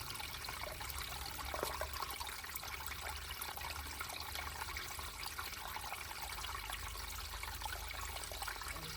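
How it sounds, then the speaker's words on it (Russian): Continuous hiss of water running out of a pipe, a steady trickling stream, faint and unbroken with no voices. "сколько я уже туда залил воды, и она и выходит, и выходит"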